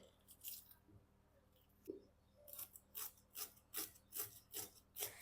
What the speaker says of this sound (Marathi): आता आपण पटकन कांदा कापून घेऊया